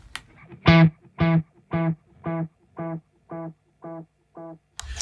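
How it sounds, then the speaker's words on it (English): A single guitar note repeats in fading echoes from a JHS pedal set to tape echo, about eight evenly spaced repeats that grow quieter, with a warm, slightly dark analog tape delay tone. "that's currently set to like a tape echo sort of analog vibe"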